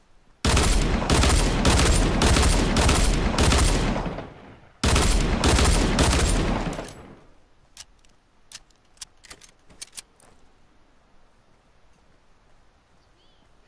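Video game gunfire roars in two long, loud, dense bursts of rapid automatic shots, one after the other, then trails off into scattered faint clicks and ticks with no talking.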